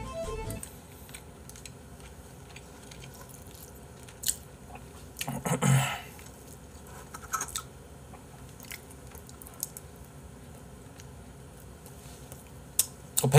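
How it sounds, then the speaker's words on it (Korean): Someone chews marinated galbi, Korean beef short ribs, close up: soft wet chewing and biting sounds recur through quiet room tone, with one louder squishy burst near the middle. "일부러 씹는 거지."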